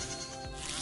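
A single short sheep bleat from the video game Spyro 2: Ripto's Rage, quiet and slightly wavering, heard on its own.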